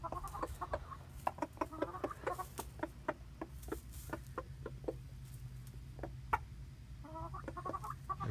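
Hens in a coop peck at a dead mouse, giving a run of sharp, close taps and knocks mixed with soft clucking over a low background hum.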